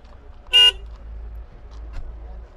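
A Zhiguli car at a used-car market in Osh gives one short, sharp horn honk, loud and close, followed by quiet background rumble.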